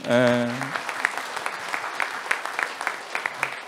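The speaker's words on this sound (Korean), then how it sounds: "이분들 좀 박수 한번 쳐주세요" An audience applauds at a district public debate forum in Yeongdeungpo, Seoul, a sustained round of many hands clapping throughout, following a brief tonal voice at the very start.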